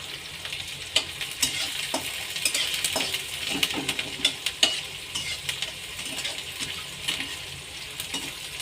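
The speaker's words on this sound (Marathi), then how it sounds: "आणि लगेच यात टाकायचा बारीक कट केलेला कांदा या ठिकाणी मी दोन मध्यम आकाराचे कांदे कट करून घेतलेले कांदा छान परतू द्यायचा आहे" Two medium onions, finely chopped, sautéing in hot oil in a pan for Khandeshi bharit, a steady sizzle broken by frequent scraping and clinking stirs of a utensil against the pan.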